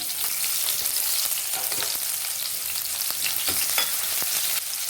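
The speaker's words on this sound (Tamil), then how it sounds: "இது கொஞ்சம் நல்லா பொரியணும்" Finely chopped small onion frying with bay leaf in hot oil in a pan for a green peas paneer gravy, a loud continuous close sizzle and crackle with faint stirring, no talking.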